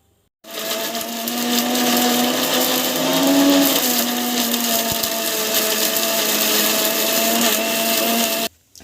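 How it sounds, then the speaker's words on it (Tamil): An Indian kitchen mixie grinder whirs steadily and loudly as it grinds steamed coconut into chutney. The motor drone runs alone for about eight seconds, then cuts off abruptly. "ஸோ மிக்சியில் வந்து அரைச்சிட்டு இருக்குது."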